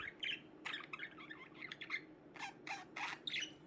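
Pet budgies warbling and chirping, a busy stream of quick chattering notes and short squawks, soft and moderately close with no talking.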